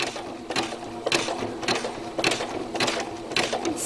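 A sewing machine stitches a zigzag seam on fabric in fast repeating bursts of mechanical clatter, close and loud, with no talk over it.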